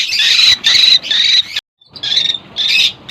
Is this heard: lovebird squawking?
yes